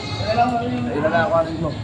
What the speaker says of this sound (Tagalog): Ito yung mga kambing dito. Ang dami.